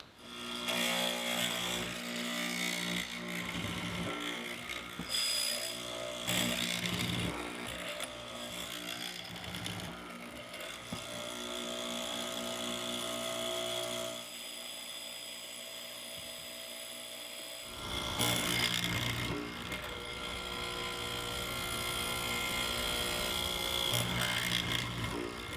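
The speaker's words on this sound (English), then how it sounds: "Now I'll readjust the fence and finish the mortise." A hollow chisel mortiser cuts a mortise in wood, a loud whining motor drone with repeated plunging cuts and chiseling bursts, briefly dropping to a quieter hum midway before cutting resumes.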